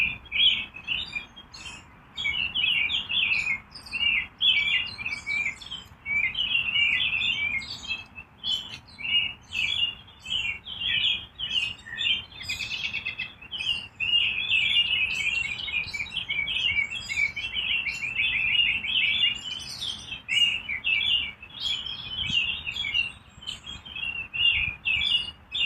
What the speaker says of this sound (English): I just wanted to share the birds with you guys today.